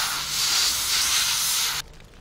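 A fire hose sprays onto a fire in the Flashing Lights video game, making a loud, steady rushing hiss that holds for about two seconds and then cuts off abruptly, leaving a faint background.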